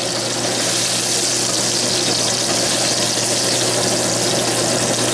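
Garlic fries steadily in a pan, a loud, dense sizzle that holds constant and close without pause, and no voices over it.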